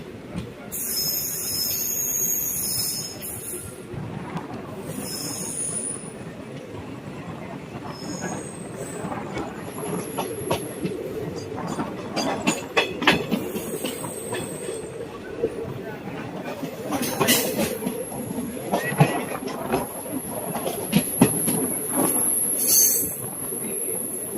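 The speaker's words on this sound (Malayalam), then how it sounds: "ഒരു മിനിറ്റത്തെ സ്റ്റോപ്പിന് ശേഷം ഇവിടുന്ന് ട്രെയിൻ എടുത്തിട്ടുണ്ട്" Punalur–Madurai Express pulling out of Thiruvananthapuram North station, a steady rumble of rolling wagons with wheel squeal and clatter building over the run, while people talk nearby throughout.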